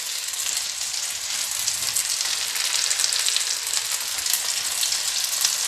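Rabbit pieces frying in an Afghan kazan, a steady dense sizzle of hot oil crackling continuously and close up, with no talking.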